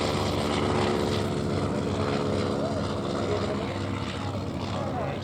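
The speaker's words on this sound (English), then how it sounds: "The next aircraft that we shall see, one of them already in the air" Propeller aircraft flying at the Shuttleworth Festival of Flight 2025 air show, a steady, loud engine drone holding throughout with a faint voice over a public address.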